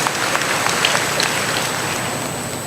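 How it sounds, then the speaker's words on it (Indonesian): An audience at an academic oration applauds Pak Gomar, a dense, even wash of clapping that holds steady and fairly loud throughout, with no talk over it. "Tepuk tangan kepada Pak Gomar."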